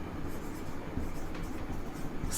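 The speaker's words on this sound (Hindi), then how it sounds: "तो आप यहां पर लिखेंगे" A pen or marker writes continuously during a trigonometry lecture, giving a steady low scratching that stays close and even throughout and is not broken by any talk.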